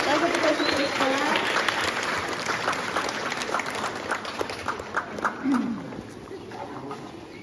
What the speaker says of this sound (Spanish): vez más les pido fuerte los aplausos para todos los pequeñitos que hoy están aquí.